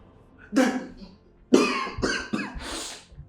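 A person coughs several times in short, harsh bursts, close by, with brief pauses between them.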